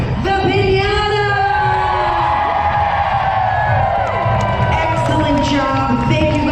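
A large crowd aboard the Carnival Breeze cruise ship cheers, whoops and yells loudly and continuously to hail the winner of a Halloween costume contest.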